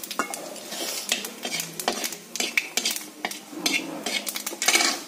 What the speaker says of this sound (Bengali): তেলের মধ্যে দিয়ে দেবো হচ্ছে একটু জিরে